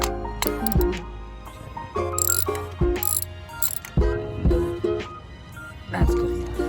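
A ratchet tightens a spark plug on a 2015 Toyota Camry engine, giving short bursts of crisp clicking pawl strokes in an uneven rhythm, close and moderately loud, with pauses between turns.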